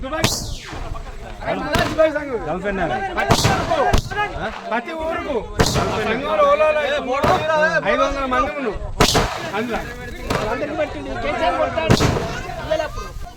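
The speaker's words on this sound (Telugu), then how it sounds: "ఈ సందర్భంగా అందరూ టపాకాయలు పేల్చి సంబరాలను వ్యక్తం చేసుకున్నారు" Firecrackers burst at an outdoor celebration with about eight sharp, loud cracks spaced a second or two apart, heard over steady crowd talk and chatter.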